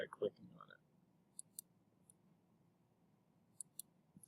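Quiet, sharp computer mouse clicks tick sparsely over a low room hum, a few single and double clicks spaced out after a brief moment of someone talking at the start.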